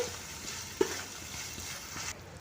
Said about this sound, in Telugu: ఈ విధంగా కలుపుకుంటూ టమాటా పళ్ళుని మగ్గించుకోవాలండి